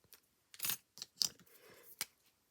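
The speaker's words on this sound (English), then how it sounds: "So again, I'm using my scissors" Scissors cutting card sentiments for a stamped winter berries craft project, several close, crisp snips in quick succession with short pauses between them.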